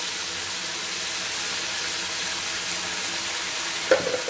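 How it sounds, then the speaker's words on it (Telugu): Brinjal curry frying in a pan sizzles steadily as water is sprinkled over it and the mix is stirred, with a brief clink of a utensil near the end. "ఇలా నీళ్ళంతా చిలకరించి ఒకసారి కలిపేసుకొని"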